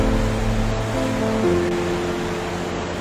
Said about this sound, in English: Got some major flood problems going on right now down in the French Broad River.